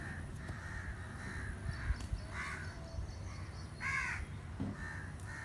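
Crows call near and far while being fed, a series of harsh separate caws with short pauses between them, over faint background noise.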